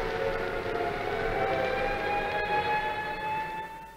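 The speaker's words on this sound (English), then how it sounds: "I'll just let you listen to the traffic and the sound of the siren for a moment." Wartime air raid siren wailing over London traffic, a steady rising and falling tone held loud throughout with the low rumble of vehicles beneath, fading slightly at the end.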